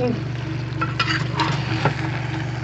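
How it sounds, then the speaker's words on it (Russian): Food stews and sizzles in a pan seasoned with coriander and salt, giving a constant close frying hiss with a low hum and a few brief scraping clinks, no talk. "Кориандр немножечко добавила, подсолила. Так, и тушу"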